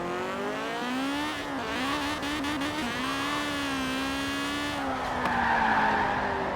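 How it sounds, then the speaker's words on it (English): A Honda S800 fitted with a single turbo and tuned to about 700 horsepower in Forza Horizon 4 revs hard with a steady engine drone, the pitch climbing and dipping through gear changes while the tyres squeal and skid throughout. "let's take this out for a nice little spin with the Honda engine and that single turbo"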